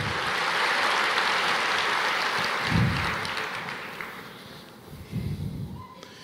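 Church congregation applauding at a Pentecostal service, a broad wash of many hands clapping that fades toward the end, with a couple of louder low bursts of crowd noise.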